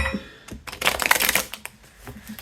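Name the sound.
shuffling tarot cards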